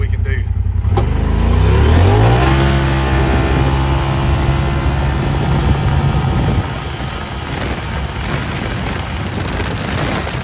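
A 2025 Polaris RZR Pro S side-by-side accelerates hard in four-wheel drive, its engine note climbing steeply through the revs and then holding a loud, steady roar with road and wind noise around it.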